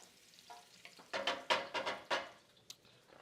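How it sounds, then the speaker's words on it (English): Garlic sizzles in vegetable oil in a pan while being stirred, producing a soft frying hiss punctuated by several sharp scraping and stirring bursts close by. "first thing we're gonna add to the pan is some more garlic"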